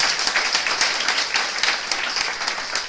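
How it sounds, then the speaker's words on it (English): A crowd gives a dense, steady round of applause, loud and continuous throughout with no voice over it. "give yourself a round of applause for showing up"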